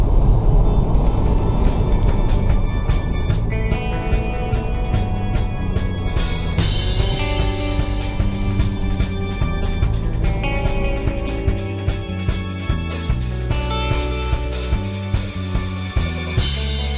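Cabin sound from a 2010 Chevy HHR being driven at around 200,000 miles, with a steady road and engine rumble and repeated rhythmic clicking and tonal chimes layered over it; no speech.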